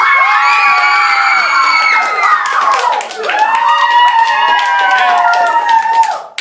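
Classroom children erupt in loud, excited cheering and whooping like a crowd, two sustained bursts of high shouting with a brief dip between them.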